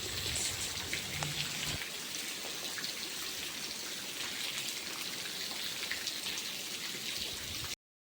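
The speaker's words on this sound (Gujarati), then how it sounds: "ત્યાં તો વરસાદ પણ આવી ગયો" Steady rain falls and patters on surfaces outdoors, a dense, even wash of drops that holds at the same level for about eight seconds before cutting off, with no voices.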